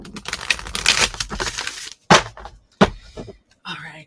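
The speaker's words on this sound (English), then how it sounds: "One last shuffle." Oracle cards riffle and flutter in a quick papery burst, followed by a couple of sharp slaps as the deck is squared, with a little talk.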